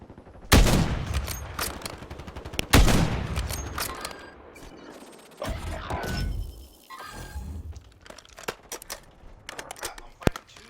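Sniper rifle shots in a Call of Duty Warzone plunder match ring out as a few sharp, loud single cracks with decaying tails, spaced seconds apart, followed by smaller clicks and handling noises.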